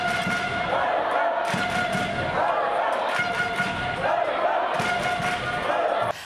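Away fans at a floorball match erupt after their team scores, with a sustained roar of crowd cheering and shouts. Occasional thuds and bangs from the hall run underneath, and the noise holds loud to the end.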